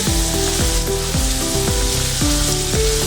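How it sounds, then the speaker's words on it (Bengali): Chopped onions frying in a hot pan for chicken soup, a steady close sizzle with a broad hiss throughout, and no talk over it. "তারপর দেবো পেঁয়াজ কুচনো।"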